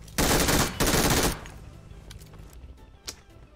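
Bursts of rapid automatic gunfire in PUBG, two loud sustained volleys close together, then fading to quieter scattered shots and game ambience.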